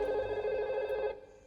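A telephone ringing indoors, a steady electronic trilling tone held for about a second before cutting off, with no talk over it.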